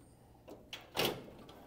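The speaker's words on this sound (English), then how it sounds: "Now at this point, you just push the drawer closed." A paper drawer on an HP PageWide printer being pushed shut, a few light sliding knocks ending in one firmer thud, close and quiet.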